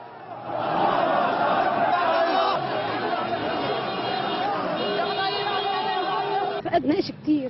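A large crowd at King Hussein of Jordan's funeral produces loud, steady murmuring and agitated voices that fade near the end.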